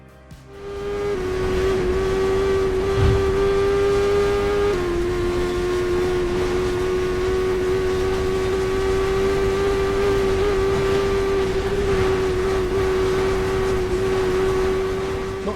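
A motorcycle engine in TT Isle of Man Ride on the Edge 2 holds a loud, sustained high-rpm whine near redline, with a brief dip in pitch at a gear change before droning steadily on.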